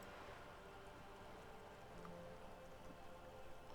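Steady rain ambience from the video game Disco Elysium, a soft continuous patter of drops on surfaces, even and unbroken, with no voices.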